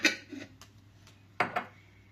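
A frying pan set down and shifted on a home kitchen stove before garlic and onion are sautéed in oil, giving a few clanks and scrapes with a sharp double knock near the end, close and moderately loud.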